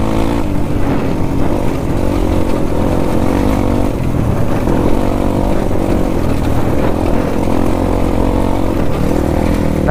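A 250cc dirt motorcycle riding along a dry mud trail, its engine a loud, close, continuous drone that holds steady without pause, with no talking.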